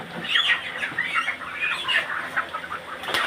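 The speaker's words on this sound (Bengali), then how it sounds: "মুরগি ধরতেছে" Farm chickens squawk and cluck frantically in a continuous, agitated chorus while being caught, close by and fairly loud.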